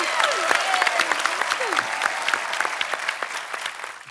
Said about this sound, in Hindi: हमारी भाभी के लिए जोरदार तालियां